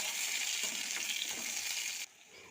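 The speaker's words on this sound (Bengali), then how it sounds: "পেঁয়াজটাকে হালকা করে একটু ভেজে নেব।" Sliced onion fries lightly in hot mustard oil with dried red chilli and a bay leaf for a chana dal tadka. A steady close sizzle and hiss runs alone, then drops to a quieter crackle near the end.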